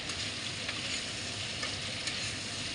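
Potatoes and spice paste fry in a pan with a continuous soft sizzle and faint crackle, fairly quiet and even throughout, with a few light ticks from stirring.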